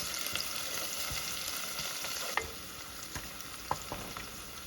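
Food frying in a pan while being stirred, with whole potatoes with turmeric, a continuous moderate sizzle punctuated by a few sharp spoon scrapes and taps near the middle and end.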